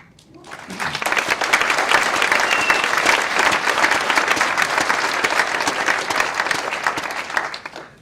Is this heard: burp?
no